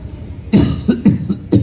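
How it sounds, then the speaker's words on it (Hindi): A series of coughs, one strong cough followed by several shorter ones in a rough rhythm, close and fairly loud. "मैं खांस रहा हूं"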